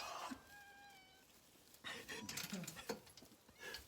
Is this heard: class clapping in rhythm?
no